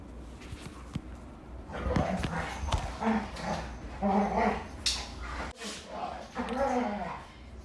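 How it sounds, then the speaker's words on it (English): Dogs moving about and making soft playful noises in the background, with scuffling and occasional yips under a person talking. "my dogs are in the background"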